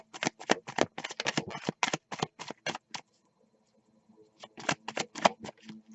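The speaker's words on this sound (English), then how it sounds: "Shuffling the Crow Tarot." Tarot cards are shuffled close up in rapid bursts of crisp, riffling slaps, pausing briefly before another quick run of shuffling.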